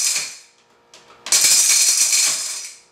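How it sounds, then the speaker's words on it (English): An InnoMix Surya mixer grinds turmeric pieces in short pulses: a faint rattle, then a loud whirring burst of the blades and chunks that runs about a second and a half before winding down. "See, from the sound you can hear if it's ready for the continuous speed or not."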